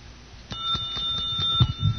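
A boxing round bell rings at the start of a blind boxing bout, a bright sustained ring with repeated strikes, followed by low thumps and crowd noise.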